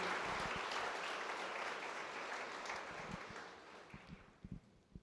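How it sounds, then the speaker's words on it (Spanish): Sustained applause from a church congregation, loud at first and gradually thinning out, with a few scattered final claps near the end. "démosle un aplauso al Señor y a ustedes también"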